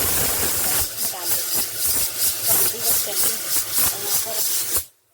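A pressure cooker on a home kitchen stove hisses steadily with loud broadband steam and a pulsing, rhythmic rasp, close by, then cuts off abruptly near the end.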